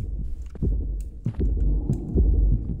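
Heartbeats in the Roblox horror game The Mimic thump in heavy, low double pulses, repeating roughly every second and loud and close, with no talk.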